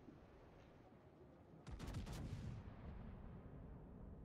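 Warship main guns firing in the naval video game World of Warships, a single muffled boom with a short crackling tail over a steady low game rumble.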